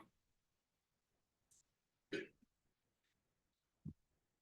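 In a quiet courtroom, someone gives a few scattered throat-clearing coughs: a faint short rasp, a louder harsh clearing of the throat, then a final low cough.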